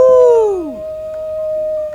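A voice imitates a hungry animal's terrifying howl in a bedtime story: one loud, falling wail, followed by a faint steady tone.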